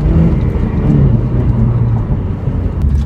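A Honda Civic fitted with a Buddy Club short shifter, its engine droning loudly and continuously from inside the cabin while downshifting, a dense low rumble with no voices.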